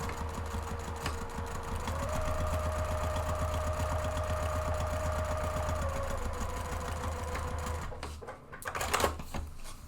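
A sewing machine hums steadily up close, stitching a purse organizer seam to seam, then stops and gives way to a few clicks and rustles.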